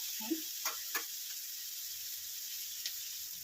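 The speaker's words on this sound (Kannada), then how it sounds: "ಸ್ವಲ್ಪ ಸ್ವಲ್ಪ ನೀರಲ್ಲಿ ಚೆನ್ನಾಗಿ ಅದು ಚೆನ್ನಾಗಿ ಫ್ರೈ ಆಗಲಿ" Wheat noodles fry in a pan with a steady, close sizzling hiss throughout, broken by a few soft clicks and scrapes of stirring.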